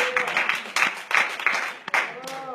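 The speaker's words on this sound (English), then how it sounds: "Give God a hand clap of praise if you're glad that God is here to hold you" A church congregation breaks into scattered applause during a sermon, with uneven bursts of clapping from a crowd at mid distance and voices calling out over it.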